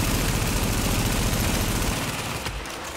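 Dense, continuous gunfire and automatic turret shooting in The Division, a steady close barrage that thins out slightly near the end.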